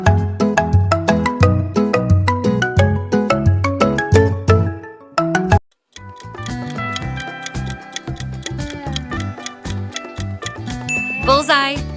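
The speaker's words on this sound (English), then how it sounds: "Bullseye. It's a Poco." A Poco mobile phone ringtone sounds loud and close, with plucky, bouncing synth notes in a quick repeating pattern, a momentary dropout, then a denser ticking, tinkling melody to the end.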